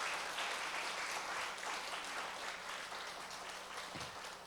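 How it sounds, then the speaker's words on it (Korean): An audience at a parents' school lecture claps in thanks for the professor, steady faint applause that runs for several seconds without any talk. "우리 박상진 교수님께 다시 한번 감사의 박수"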